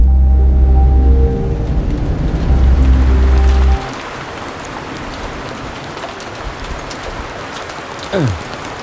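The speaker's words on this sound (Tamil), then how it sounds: "போனி ஆகாத நேரத்தில் மழை வர மாதிரி இருக்கே" Steady rain falls outside, a broad continuous hiss that fills in once a stretch of talking stops, carrying on alone at moderate loudness.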